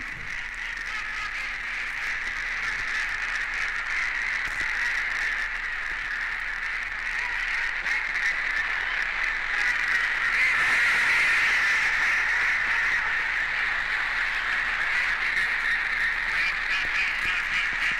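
Wild mallard ducks call steadily throughout, a continuous run of quacking and chatter that rises slightly in the second half, with no talking.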